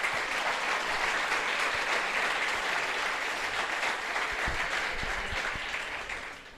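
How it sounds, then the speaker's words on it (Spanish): A church congregation at a missionary gathering applauds together, a loud, sustained wash of clapping that holds steady for several seconds and then tapers off at the end. "Un aplauso para la iglesia del Señor."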